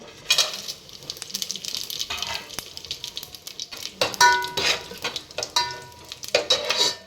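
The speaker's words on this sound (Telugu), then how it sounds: "ఇదిగోనండి ఆయిల్ అయితే హీట్ అయింది. బిర్యానీ దినుసులు వేసేసుకుంటున్నాను." Whole biryani spices dropped into hot ghee and oil sizzle and crackle in a pan, with several loud bursts of spattering and a stir or two, and no talking.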